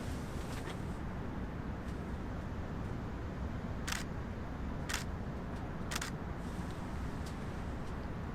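Three crisp single-lens reflex camera shutter clicks, taken handheld outdoors at sunrise in fog during nature photography, spaced about a second apart over steady low wind noise.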